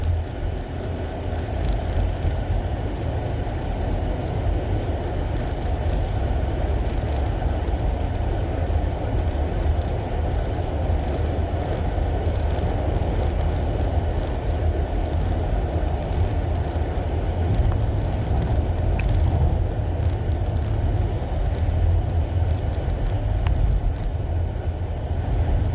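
A second-generation Nissan LEAF electric car pulling away and driving, a steady low road and tyre rumble with faint whine, continuous and even throughout.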